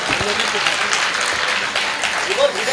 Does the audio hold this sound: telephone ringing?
no